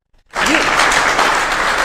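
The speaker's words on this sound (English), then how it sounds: "let's give her a clap" An audience at the Zambia Annual SME Conference applauds a speaker being introduced. Loud, dense clapping bursts in after a short silence and holds steady, with a brief voice heard near its start.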